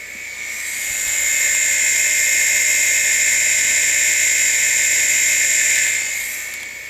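An old SCSI hard drive spins steadily during formatting, a sustained high-pitched whine with a bright overtone that fades in, holds evenly for several seconds and tapers off at the end, heard alone and close.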